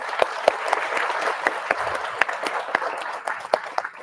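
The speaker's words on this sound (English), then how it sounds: "Please give a warm welcome and a huge round of applause" Applause from an audience in a seminar hall at IIT Delhi, a dense patter of clapping with some louder individual claps, continuing steadily before thinning slightly toward the end.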